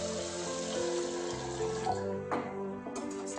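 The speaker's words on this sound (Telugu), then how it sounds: "ఇప్పుడు దీంట్లో ఒక 5 కప్స్ వరకు వాటర్ యాడ్ చేసుకున్నాం." Water pours from a tap into a pot holding two cups of rice and moong dal, a steady close rushing splash whose tone shifts as the pot fills, with no talking.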